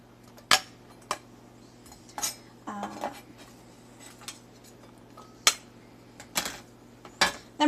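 Diced tomatoes and onions being mixed in a bowl with a utensil: several sharp clinks and scrapes against the bowl at irregular intervals, close up, with quiet gaps between.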